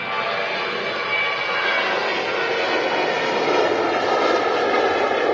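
A jet airliner takes off at Manchester Airport, bound for Fuerteventura, its engines a loud, steady, broadband roar that holds constant throughout with no speech.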